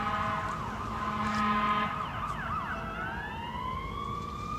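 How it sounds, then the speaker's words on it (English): A fire truck siren passes in the distance, its rising and falling wail emerging over a steady rumble of traffic and growing clearer toward the end. "That sounds like fire truck."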